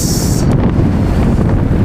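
Strong wind roars and buffets the microphone in a constant loud rush while fishing at sea, with open-water noise underneath.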